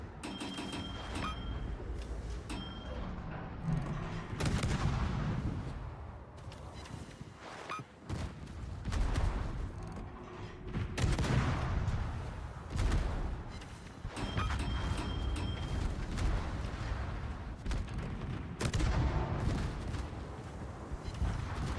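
Naval gunfire in the video game World of Warships, a dense, continuous wall of booming salvos and rumbling blasts that swell and ebb throughout, loud and sustained.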